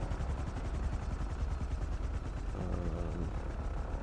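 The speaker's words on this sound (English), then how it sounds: "That's a police helo touching down on PCSO South, correct?" In a video game, a police helicopter touches down on a rooftop helipad, its steady rotor chop and turbine whine filling the sound evenly and loudly with no pauses.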